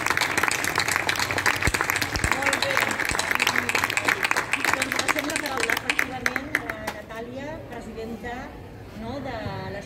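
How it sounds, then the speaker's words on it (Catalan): Hearty applause at the Festa Major de Sant Joan de les Roquetes 2021 presentation, dense clapping that fades after several seconds as a voice begins speaking over the room. "Moltes gràcies, un aplaudiment."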